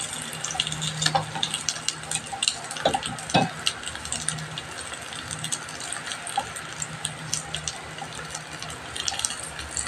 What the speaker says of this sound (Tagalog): almost done na po tayo sa pagpiprito ng ating talong